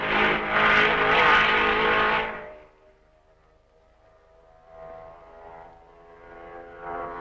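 Formula 1 cars of 1955 racing at Francorchamps, first a loud, harsh engine roar sweeping close by, then quieter, then more distant engines droning and rising again.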